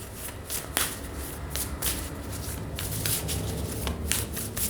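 An astrological card deck is shuffled by hand, giving repeated crisp riffling flutters and light slaps close by, with no voices.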